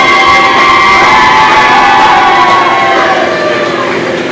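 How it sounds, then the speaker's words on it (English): A wrestling crowd in Greenwood, Arkansas cheers loudly and continuously at an independent wrestling show, a dense roar of voices with whoops and shouts that eases slightly toward the end. "the crowd here in Greenwood, Arkansas, showing their love for Gunnar Grayson"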